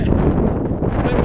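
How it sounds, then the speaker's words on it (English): Wind gusts hard across an exposed mountain race course, a loud steady roar buffeting the microphone for the whole brief moment. "A bit windy out here."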